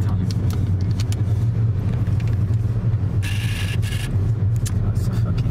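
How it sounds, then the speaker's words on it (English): A car rumbles steadily past at night near a petrol station, a loud continuous road drone with a brief hiss partway through and no talking. "That's a fucking car"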